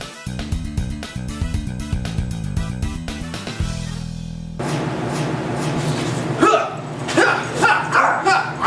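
A dog barks repeatedly in sharp, loud bursts toward the end, after a stretch of rhythmic music and a brief sustained tone.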